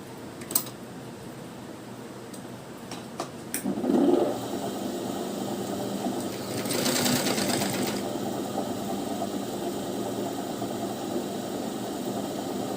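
A sewing machine stitches the side seam of a blouse lining in faint, brief runs over a steady background hum, with small clicks near the start.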